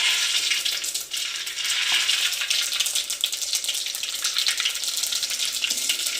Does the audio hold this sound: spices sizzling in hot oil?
yes